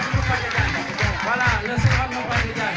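An audience at a Sedhiou children's rights convention anniversary event claps in a steady, rhythmic beat of about two claps per second, mixed with crowd voices and cheering.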